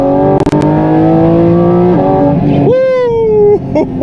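A Porsche 718 GT4 RS Weissach launches at full throttle with traction control off, its engine wailing loud and rising through the revs, with quick upshifts cutting in before each climbs again.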